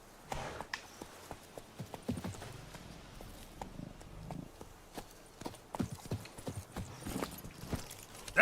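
Roach, a horse in The Witcher 3, trots with rhythmic hoof clip-clops over ground, close by at moderate volume, and gives a short whinny near the end.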